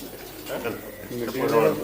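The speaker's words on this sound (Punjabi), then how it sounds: "ਆਪਣੇ ਕੋਲੇ ਵੀ ਸੇਮ ਆਹੀ ਕਬੂਤਰ ਹੈ ਜੀ" Pigeon cooing from a black-headed high-flying breed kept by fanciers, a couple of soft low coos close by, with talking running over the call.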